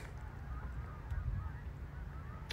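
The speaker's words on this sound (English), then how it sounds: "Look at all them geese." A flock of geese on a golf course honking faintly in the distance, a few soft calls over low outdoor background noise.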